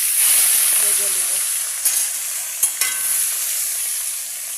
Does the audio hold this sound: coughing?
no